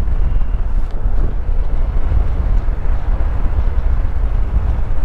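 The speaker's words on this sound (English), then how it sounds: "it's got a nice note to this engine. And it does accelerate well." A Yamaha T-Max scooter engine drones steadily while riding, a low loud hum mixed with heavy wind buffeting on the microphone.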